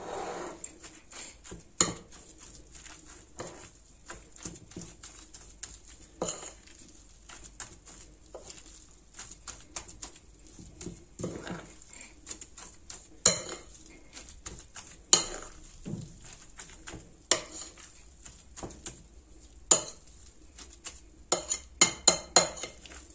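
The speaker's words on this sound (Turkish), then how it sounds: "Ve elmamızı karıştırıyoruz." A spoon stirs grated apples with cinnamon in a bowl, giving repeated clinking scrapes against the dish in an uneven rhythm, close and fairly clear over a quiet background.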